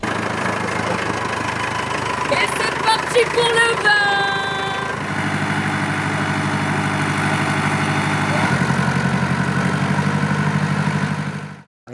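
A tractor engine idles and runs on a Provence vineyard estate, a steady low rumble with a deeper heavier stretch in the second half, while someone speaks over it near the start.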